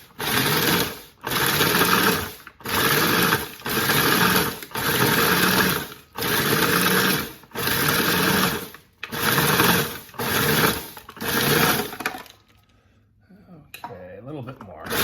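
A food processor pulses pie-crust ingredients into crumbs in a home kitchen, about nine loud bursts of roughly a second each with short gaps, then a quieter stretch with faint rattling at the end.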